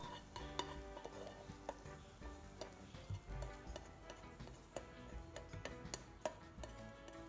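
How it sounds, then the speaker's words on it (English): Spoon stirring spring onions through Chinese-style egg fried rice with onions, carrots, peas and egg in a hot pan, with faint quiet scraping and light ticking over a soft sizzle and no talk. "I just add in the spring onions at the end, just to stir through"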